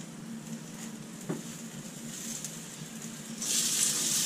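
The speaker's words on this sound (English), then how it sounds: "I'm gonna put a little bit of olive oil down, and we'll start sweating these peppers and onions." Sliced peppers and onions begin sweating in olive oil over a gas burner, making a quiet, soft sizzle with one brief knock, then a brighter hiss swelling near the end.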